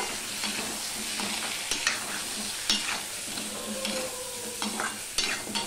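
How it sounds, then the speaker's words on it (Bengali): Salt and turmeric being stirred into a simmering hilsa fish curry in a pan: steady close sizzle with repeated scraping spoon strokes and occasional sharp clinks against the pan, no voices. "দিয়ে দিলাম নুন, দিয়ে দিলাম হলুদ, দিয়ে সম্পূর্ণটা আমি মিশিয়ে নেব।"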